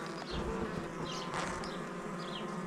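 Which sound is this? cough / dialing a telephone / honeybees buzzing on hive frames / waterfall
honeybees buzzing on hive frames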